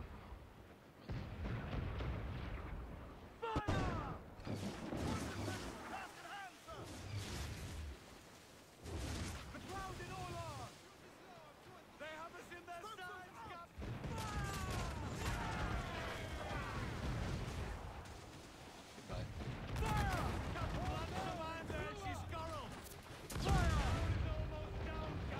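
Ship cannons fire repeatedly during a naval battle in Assassin's Creed IV: Black Flag, heavy booming blasts mixed with game noise, shouted orders and ongoing talk over most of the stretch.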